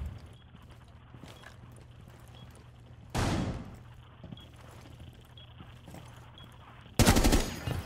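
Gunfire in Rainbow Six Siege, two loud bursts of shots standing out over quieter in-game footsteps and ambient noise, the second burst sharp and close near the end.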